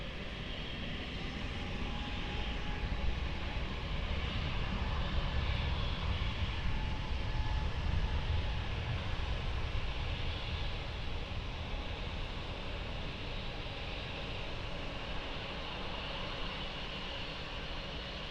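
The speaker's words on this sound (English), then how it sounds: "Clear for takeoff, runway 20, bom dia, Portugal 9363." A plane taking off from runway 20 at Lisbon Airport, heard as a steady, broad engine roar that holds level for the whole stretch, fairly distant and with no voices.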